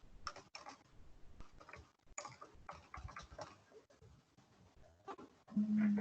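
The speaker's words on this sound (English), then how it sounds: "so my recipient is Lakshita, so I'll type some message" Rapid keystrokes on a computer keyboard as a message is typed, close and dry, in an uneven stream of clicks with short pauses, ending in a louder thump.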